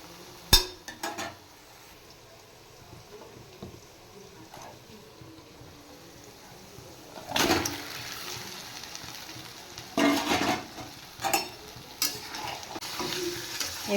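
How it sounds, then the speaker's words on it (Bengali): Chicken pieces fry with onions in a pan, giving a soft continuous sizzle. Loud bursts of scraping and stirring come with it, along with a few clanks of a utensil against the pan. "এবার আমি চিকেনগুলো পেঁয়াজের সাথে একটু ভালো করে ফ্রাই করে নেব।"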